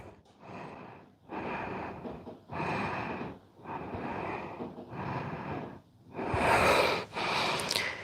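Slow, heavy breaths during a yoga stretch, a series of about six long airy exhales and inhales with short gaps between them, close and clear, the last one the strongest.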